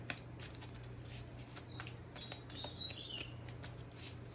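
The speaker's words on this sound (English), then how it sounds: "Listen to those beautiful birds" Faint, thin bird chirps come and go in the distance over a quiet background hum, with some soft rustling and shuffling nearby.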